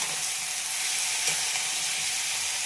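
Raw jackfruit curry cooking in a pan gives a steady, close sizzle and fry hiss that stays even throughout, with faint scraping and no voices.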